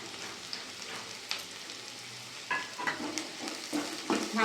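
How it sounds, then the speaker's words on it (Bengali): Onion fried with grated ginger and garlic in a pan, crackling in a soft continuous sizzle while a spatula stirs it, scraping and tapping against the metal in several quick strokes, louder toward the end. "ভালো করে সব একসাথে মিশিয়ে নিই"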